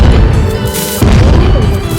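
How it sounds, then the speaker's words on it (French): A bomb goes off in the Roblox video game as a loud, dense burst of booming crashes that fills the full two seconds. "il va lancer une bombe"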